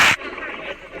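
A single sharp gunshot from a gun in the video game Granny, loud and abrupt at the very start, then fading quickly into a faint tail under low background sound.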